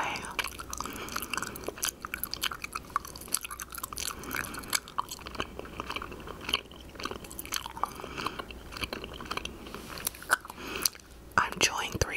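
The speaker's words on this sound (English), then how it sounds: "I'm chewing three pieces" Three pieces of gum are chewed close to the microphone in a steady wet, smacking, popping rhythm, with soft whispered talk over the chewing.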